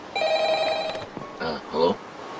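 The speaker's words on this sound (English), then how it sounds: "The phone. It's ringing." A ringing telephone in a Minecraft-style game office sounds a steady electronic tone for just under a second, followed by close speech.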